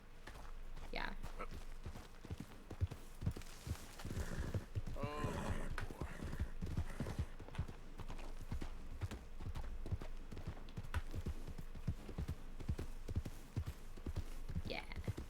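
Horse hooves clip-clop in a steady walking rhythm within a video game, fairly quiet and close, with soft talking and game sounds mixed in.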